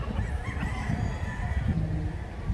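Gamefowl stags and pullets at a farm, with a rooster crowing amid steady clucking and flock noise close by, no talk.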